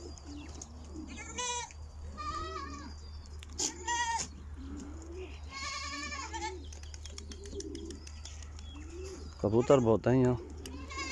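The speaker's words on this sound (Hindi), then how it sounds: "ये बकरियां हैं सारी।" Someone talks over a low hum while pigeons coo faintly in a village in Saudi Arabia; near the end a goat bleats loudly, a wavering cry repeated twice.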